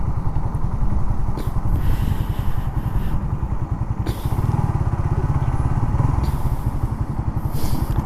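A Suzuki Raider 150 FI motorcycle engine runs close and loud for the whole stretch, a steady rapid pulsing throb that rises and eases slightly as the throttle is worked, with no talking over it.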